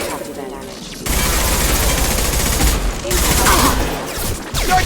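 Loud, sustained gunfire from the video game Mass Effect Legendary Edition, dense rapid bursts of shots and impacts in combat, with shouted in-game voices mixed underneath.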